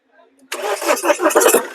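A 2017 Mahindra XUV500 W10 starts on a single crank, its engine catching abruptly and running loud and close with a throaty, pulsing idle, after a faint bit of speech at the start.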